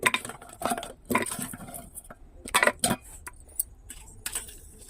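Goat legs being dropped into a metal pressure cooker, a series of clattering knocks and clinks against the pot, several sharp bursts spaced irregularly, close and fairly loud, with no talking.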